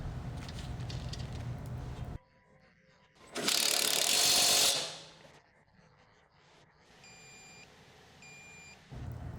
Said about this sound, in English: Tighten the 15mm nut to 60 Nm or 44 foot-pounds.